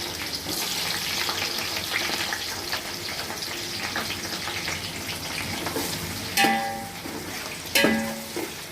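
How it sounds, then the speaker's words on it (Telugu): Onions frying for pulao sizzle steadily in a pan with soft stirring scrapes, and two sharp clatters come near the end. No one speaks over the close, continuous frying. "ఉల్లిపాయలు ఎర్రగా వేసుకోవాలండి."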